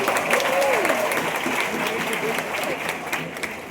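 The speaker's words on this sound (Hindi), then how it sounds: "जोरदार तालियां हमारे लिए।" Audience applause in a college hall during a talk to engineering students, a steady wash of clapping that continues for several seconds with a voice faintly underneath.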